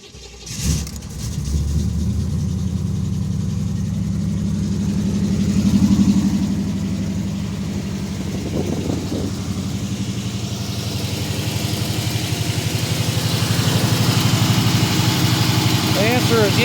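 A 1988 Pontiac Firebird with a 5.7-liter 350 Tuned Port engine starts and settles into a steady, close, loud idle with a deep rumble. It runs alone for the full stretch, with no talk over it.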